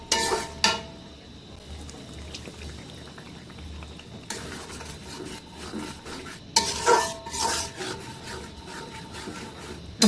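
Chicken roast with Radhuni spice mix fries in oil in a pan, heard as continuous close scraping and stirring with louder bursts near the start, middle and end.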